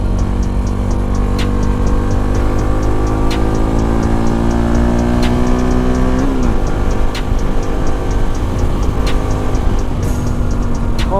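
A modified NS 200 motorcycle accelerates hard at speed, its loud engine note climbing steadily through the gears with a brief drop near the middle, then rising again, close and continuous throughout.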